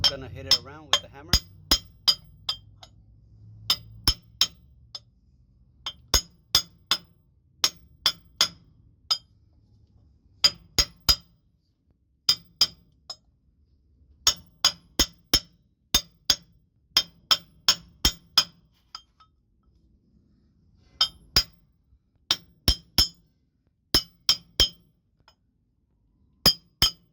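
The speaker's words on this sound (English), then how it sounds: "And we're just gonna hit it around with the hammer." A hammer taps a pinion yoke seal into place on a Freightliner Cascadia truck axle, sharp metallic clinks striking in quick clusters of several blows with short pauses between, close and crisp over a quiet background.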